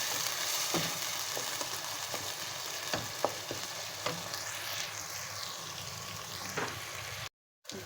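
Kachnar keema frying in a pan, steady sizzling with regular spatula scrapes and taps, no talking, cutting to a brief silence near the end.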